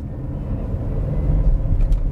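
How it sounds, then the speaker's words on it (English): A small Renault Arkana hybrid engine in sport mode hums and whirs steadily at low pitch, a continuous rumble heard from inside the car. "Tiny little engine whirring away there."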